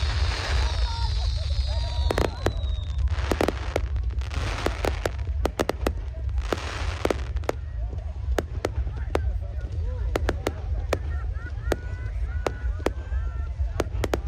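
Fireworks exploding at Burning Man, a long irregular series of sharp bangs and crackles, some close and loud, others distant, over a constant low rumble with faint background voices.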